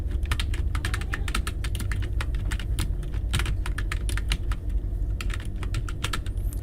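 Steady, rapid typing on a computer keyboard, a dense run of crisp key clicks close up over a low background hum, with no voices.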